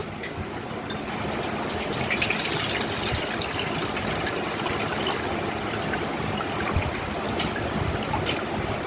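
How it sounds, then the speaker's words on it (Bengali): Salted, sweetened mint lemon water strained through a sieve, a steady soft trickling and splashing of liquid running continuously, fairly quiet and close, with no talk. "লবণ মিষ্টি গুলে গেছে ছাঁকনি দিয়ে ছেঁকে নেব"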